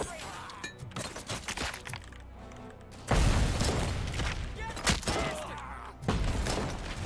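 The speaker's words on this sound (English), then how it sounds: "that freaking explosion shook me" Video game explosions and gunfire, a sudden loud boom at about three seconds followed by sustained rumbling blasts and crackling bursts, with another heavy hit near the end, under a busy mix of game sounds.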